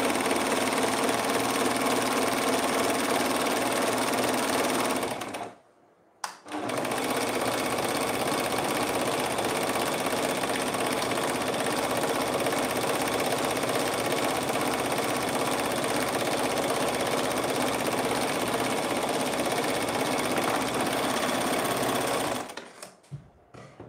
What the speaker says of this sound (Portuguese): vamos passar aqui agora, ó, fazendo acabamento no overlock por dentro das laterais da blusa